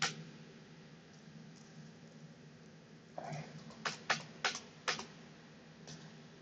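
Keys on a computer keyboard clack in a quick burst of about five close, crisp taps after a quiet stretch, heard alone in a still room.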